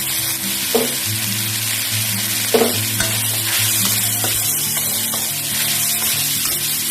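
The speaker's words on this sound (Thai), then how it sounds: "ผัดให้พริกแะใบมะกรูด ปลูกก่อนนะคะ จากนั้นต่อด้วยใบโหระพาค่ะ" Chili and kaffir lime leaves stir-fry in a wok for vegetarian green curry fried rice, a steady close sizzle broken by a few sharp scrapes of the spatula.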